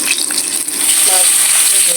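Three pieces of fish fry in hot oil with a steady, bright hiss and crackle, close and continuous, with faint bubbling underneath.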